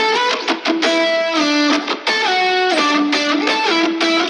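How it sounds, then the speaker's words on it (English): Lead guitar processed to sound like a distorted synth, full of high-end buzz. A sustained, gliding melodic line plays continuously and loudly, with stepwise pitch changes. "It's a guitar, but is processed in a way that makes it sound like a synth."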